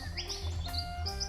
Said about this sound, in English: Did I hear another bird? Beautiful Bassian thrush.